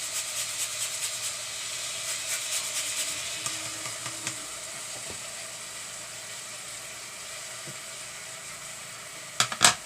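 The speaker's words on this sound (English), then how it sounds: "And now I'm going to add a little bit of orange zest." Orange zest grated for a vegan cinnamon pear apple strudel gives a soft, continuous rasping scrape with light rhythmic strokes, close and quiet, ending in a couple of sharper knocks.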